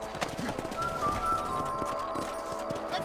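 Horse hooves clip-clop in a steady riding rhythm in Red Dead Redemption while patrolling a ranch property, close and fairly loud over faint game ambience.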